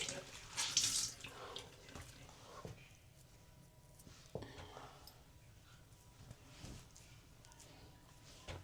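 Hot water runs from a tap in a steady, soft hiss, with a few light clunks near the start and faint room noise around it.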